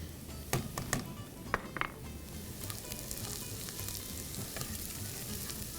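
Vegetables with turmeric frying in a pan for chicken and oat soup, giving a steady close sizzle broken by a few sharp stirring clicks and scrapes near the start, with no talking.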